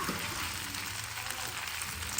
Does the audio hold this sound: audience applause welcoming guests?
no